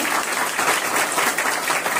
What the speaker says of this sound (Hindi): एक बार जोरदार तालियां इनके लिए बजाएं।